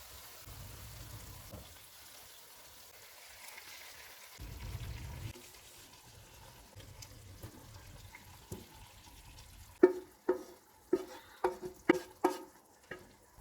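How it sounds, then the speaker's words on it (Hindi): Chicken tikka pieces placed into a karahi over a lowered flame, with a soft sizzle and low rumble, then a run of sharp, close scraping and clattering stirs near the end, no talk. "अब हम चूल्हा कम कर देते हैं और इसमें तैयार किया हुआ चिकन रख देंगे।"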